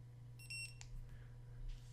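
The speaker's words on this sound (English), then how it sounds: "just hold this button until it beeps" A Bluetooth wearable ring barcode scanner, an Eyoyo 1D model, gives a short series of high electronic beeps while entering pairing mode, followed by a brief louder chirp, all over a steady low hum.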